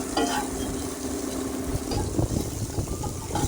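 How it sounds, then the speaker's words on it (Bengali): Bitter gourd frying in a little oil over a medium-high gas flame gives a steady, close sizzle with soft stirring scrapes scattered through it, and no talking. "আমি অল্প তেলেই উচ্ছেটাকে একটু ভেজে নিচ্ছি।"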